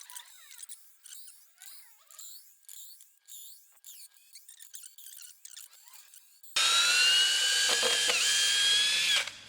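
A cordless drill on a cheap replacement Makita battery driving screws, heard as a series of short whirring bursts with gaps, followed near the end by a longer, louder sustained run of the motor up close.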